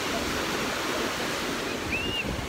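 Continuous broadband wash of surf at Bondi Beach in Sydney fills the clip, steady and fairly loud, with a faint high bird call near the end.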